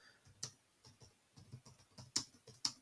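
Sparse keystrokes tapped on a computer keyboard while typing a chat answer, a few soft clicks and several sharper, louder taps, irregular and close, with no talk.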